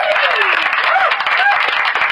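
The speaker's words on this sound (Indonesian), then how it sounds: "Beri tepuk tangan dulu, beri tepuk tangan." An indoor audience gives dense, steady applause that stays loud throughout, with a voice faintly audible beneath the clapping.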